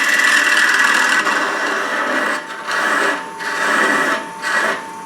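A wooden goblet blank with drilled holes spins on a lathe as a tool cuts it, giving a loud, close, rough scraping whir that briefly drops out a few times as the tool lifts away.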